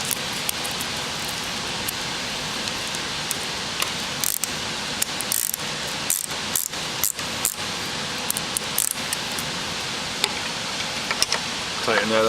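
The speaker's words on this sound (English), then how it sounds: "then take the ratchet, tighten them up" Ratchet wrench tightening nuts on a tank fitting during a tank change-out, giving rapid, repeated clicking bursts over a steady hiss, close to the microphone.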